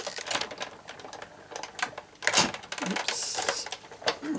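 A die-cutting machine pressing through card during a Stampin' Up! embossed circle craft project, giving close, uneven clicking and clattering crunches with a brief rushing burst near the end.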